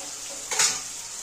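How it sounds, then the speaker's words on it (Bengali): Onions and green chillies fry in hot oil, a steady hiss of sizzling with one brief louder scrape or clink of a spoon against the pan midway. "এবার আমি কাঁচা লঙ্কা আর পেঁয়াজটা ভেজে নেব।"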